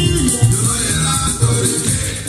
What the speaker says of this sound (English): For guys, if you don't know this kind of music, this is Caseco from Suriname,